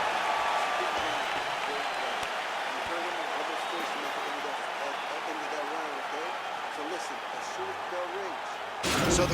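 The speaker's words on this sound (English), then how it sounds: "So the crowd voicing its appreciation after that round." A crowd roars steadily between rounds of a UFC welterweight title fight simulation, Usman against Masvidal, as a broad wash of noise that holds through the whole stretch, with a sharp rise right at the end.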